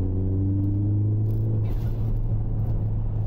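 Ford Fiesta ST180 engine pulling under turbo boost from inside the car, a steady loud low drone whose harmonics climb then settle into a broad rumble, continuous with no talk.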